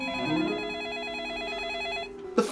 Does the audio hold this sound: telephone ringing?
yes